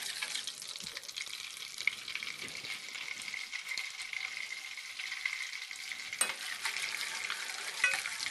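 Butter sizzles and crackles steadily in a pan as it browns for sweet buckwheat crêpes, a dense, even hiss held close throughout with occasional sharper pops and no voices.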